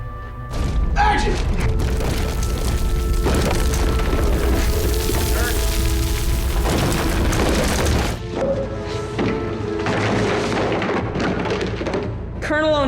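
About 200 pounds of plastic-coated styrofoam debris crash down in a staged film cave-in, with repeated heavy booms and thuds rolling over several seconds, loud and close, mixed with talking voices.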